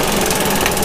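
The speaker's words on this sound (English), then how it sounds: "when you turn the motor on, which I'll show you here" Motor of a Delta drum sander being retrofitted as a buffing machine, running in a dense, steady whir with a fast rhythmic pulse, close and loud.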